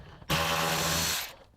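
Compact Milwaukee power driver spinning out Torx screws while installing a front lip on a 2009-era Porsche Cayman 987.2, a single steady high whirring burst of about one second, close and clear with no talk.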